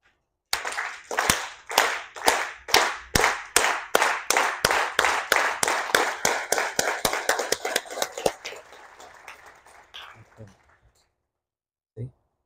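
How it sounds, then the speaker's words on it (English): A group claps together in unison during a talk, a run of about twenty-five sharp, evenly spaced claps that speed up and blur into looser applause before fading, with a lone clap afterward. "we're going to clap again"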